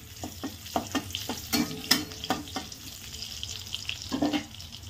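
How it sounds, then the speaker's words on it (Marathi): Garlic and cumin seeds sizzling in hot oil in a pan while bitter gourd curry (dodka bhaji) is cooked, with a steady fry hiss broken by sharp stirring scrapes and clinks close by, and no talk. "लसूण टाकायचं आपण."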